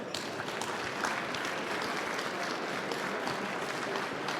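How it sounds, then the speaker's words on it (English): Audience applause at a hydrogen and fuel cells stage event during a trade fair, a dense, steady wash of clapping that holds at even loudness for the whole stretch. "Please give him a big hand of applause."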